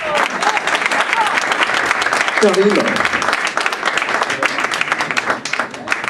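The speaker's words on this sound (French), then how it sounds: "Je vous demande de les applaudir." Warm audience applause at a concert presentation in Aulnay-sous-Bois, a crowd clapping steadily for several seconds while a voice briefly calls out a name over it.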